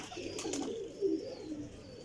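Colourful pigeons in a flying-pigeon loft cooing softly, a few low rolling coos close by against a quiet background.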